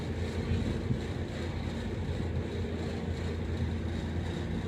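A split-unit air conditioner compressor runs steadily after switch-on, a continuous low droning hum with broadband rushing noise, loud and close, no talking.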